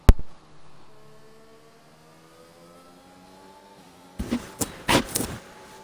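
Race cars on outlaps in a racing video game at the Hungary circuit: a steady engine whine drifts in the distance, then a louder burst of revving and passing engine noise swells near the end.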